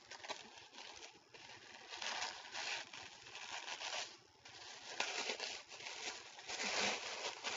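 Blue tissue paper being unwrapped from a gift, rustling and crinkling in uneven bursts of close, soft crackle that swell and fade as the paper is pulled and folded.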